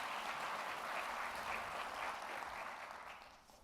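Audience applause at a county government address, a sustained wash of clapping from a crowd that holds steady for about three seconds and then begins to fade.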